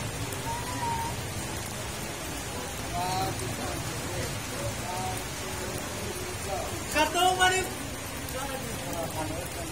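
Steady rain patters throughout at a Catholic cemetery in Pinamungajan, Cebu, Philippines, on All Souls' Day, a constant wash of drops with faint voices murmuring underneath at moderate distance.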